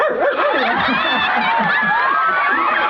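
A loud crowd shrieking and squealing together, high excited voices overlapping continuously, with some barking-like yelps mixed in.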